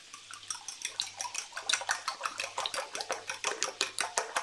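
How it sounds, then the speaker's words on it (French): Six eggs beaten into an omelette, a whisk or fork clicking rhythmically against a bowl in quick, even strokes, close and fairly soft, with no talking. "j'ai 6 œufs ici, je vais les battre en omelette"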